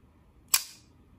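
Titanium folding knife with a milled titanium clip flicked open, giving a single sharp click followed by a short, bright metallic ting that fades quickly in a quiet setting.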